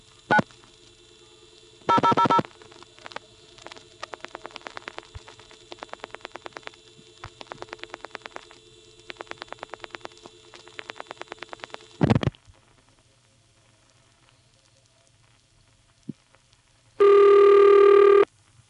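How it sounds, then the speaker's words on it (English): Long-distance call dial-pulsed over a direct trunk through an NX1 crossbar telephone exchange, 1976: rapid trains of clicking pulses in regular bursts, with a short loud tone near the start, a heavier clunk mid-clip and a steady ringing tone at the end. "That went over a direct trunk where it dial pulsed"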